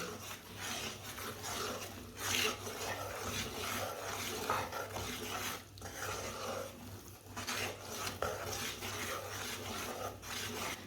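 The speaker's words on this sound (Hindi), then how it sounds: "दाल को 2-3 मिनट के लिए मैंने भून लिया है" Dal roasting in hot ghee on a low flame, a spoon scraping and stirring it around the pan in steady, quiet strokes with soft crackle beneath.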